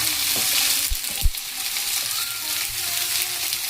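Long-cut potato and eggplant pieces fry in a pan, a loud close hiss of oil with a couple of low knocks from stirring, steady throughout.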